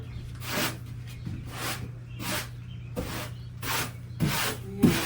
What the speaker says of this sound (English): So we'll get this swept out of the way.